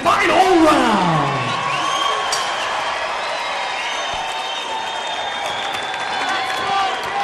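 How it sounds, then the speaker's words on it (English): A boxing crowd applauds and cheers loudly between rounds, with whoops and swelling, rising calls over a dense wash of clapping that eases slightly but stays strong throughout. "Fight fans, let's cheer these two combatants on"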